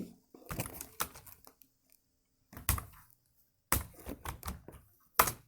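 A search is typed on a computer keyboard in short bursts of quick, clicky keystrokes separated by pauses, close and moderately quiet, with no talking.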